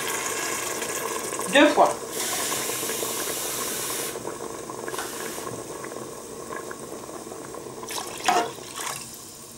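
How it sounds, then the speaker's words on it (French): Tap water runs to fill a can for a soup, with gurgling and splashing in bursts and some metallic clinks in a home kitchen, while a person speaks briefly over it. "on va remplir la boîte d'eau et on va la rajouter aussi"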